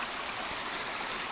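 Floodwater roars steadily down a swollen stream during March flooding near a house, a continuous broadband rushing wash with no voices over it.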